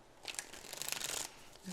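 A deck of tarot cards is shuffled in a soft, rapid riffle of papery flicks, quiet and close, with no voice over it.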